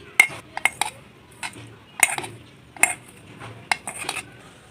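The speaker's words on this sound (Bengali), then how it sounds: "আমি এখন এটাকে তেলটাকে ছেঁকে নিচ্ছি" Metal kitchen utensils clink and scrape against a pot and dishes while straining homemade onion hair oil, a series of sharp close clinks and knocks in irregular bursts, with no talk.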